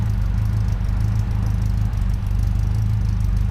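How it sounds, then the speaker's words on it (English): Datsun 620 running with a stainless steel exhaust fitted with two silencers, a steady low engine idle drone, close and continuous. "So they fitted 2 silencers to the exhaust."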